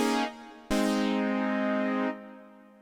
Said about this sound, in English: during the verse there's this little synthy part which I've used this dual profs patch